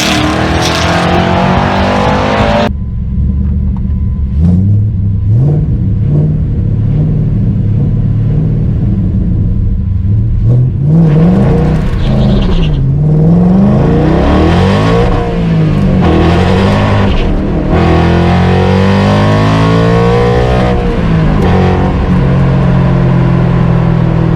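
A Cobra Daytona drag race car roars loudly nearby, its engine pitch climbing through several gear shifts as it accelerates hard for the whole stretch.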